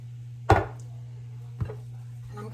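Boiled potatoes being smashed in a pot with garlic powder and salt, a sharp thudding press followed by a softer second hit about a second later, close up over a steady low hum.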